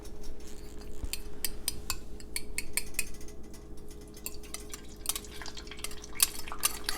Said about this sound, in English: So it begins to sizzle whenever it's the right temperature.